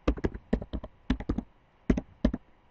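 Typing on a computer keyboard while entering text in an Excel spreadsheet, heard as several quick bursts of close, crisp key clicks separated by short pauses.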